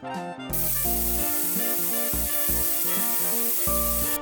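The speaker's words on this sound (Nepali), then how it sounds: "अब यो प्रेसर कुकरको चाहिँ हावा जान दिने" A pressure cooker vents steam in a loud, steady hiss that starts abruptly and keeps rushing without pause.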